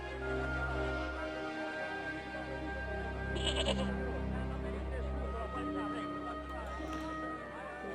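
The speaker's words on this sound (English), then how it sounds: "Well, only that old goat." An old goat bleats in the Broken Sword: The Smoking Mirror video game, its wavering cries heard close over steady game ambience, with talking running through the clip.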